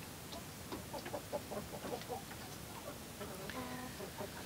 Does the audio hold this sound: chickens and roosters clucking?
yes